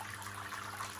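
Sparge water trickling and running down through a bed of malt into a brewing kettle at a brewery, a soft, steady liquid flow heard close and quiet for a brief moment.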